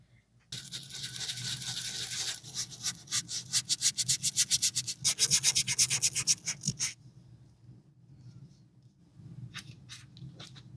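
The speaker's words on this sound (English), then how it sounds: "I'm going to start with a sandpaper disc, and I'm going to start sanding around the edges of the images" A sandpaper disc rubbed around the edges of paper images on a folio, giving close, dry scratchy strokes in quick repeated passes that stop abruptly, followed by a few faint light scrapes.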